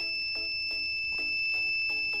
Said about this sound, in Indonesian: Sudah cut off, buzzer bunyi